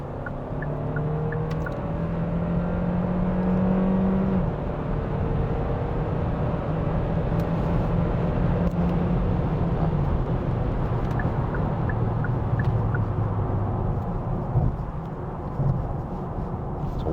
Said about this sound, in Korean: 드라이브 모드를 바꿔서 한번 가속을 해볼게요. 그럼 바로 엔진이 걸리면서